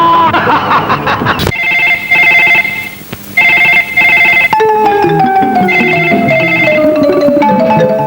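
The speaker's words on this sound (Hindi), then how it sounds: "तुम्हारे टेलीफोन की बेल ने मेरा हसीन सपना तोड़ दिया" An old-style telephone bell rings in repeated trilling bursts, loud and close, interrupted briefly and then continuing under music.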